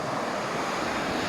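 Sea waves washing onto a shore after rain, a steady broadband wash of surf with some wind noise, continuous and fairly close with no talking.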